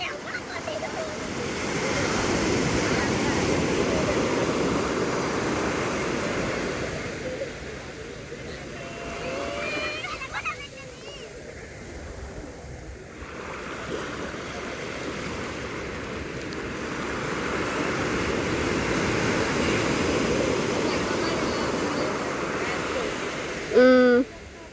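Sea waves surge onto a beach at night, a broad roaring wash that swells, eases in the middle and builds again, with wind buffeting nearby.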